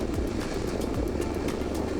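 A Cessna Caravan floatplane with a Blackhawk turboprop engine climbs after takeoff, its steady loud engine and propeller drone heard from inside the cockpit, with no talk.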